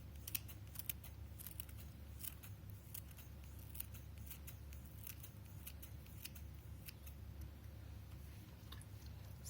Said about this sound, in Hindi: अब हम इसमें सब्ज़ धनिया काट कर डाल लेंगे।